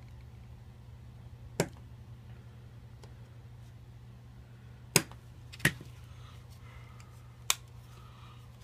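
A blade cuts along the inside of a ridge, giving four sharp snapping clicks spaced irregularly over a low steady hum, close and isolated.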